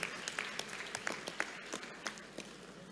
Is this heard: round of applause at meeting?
yes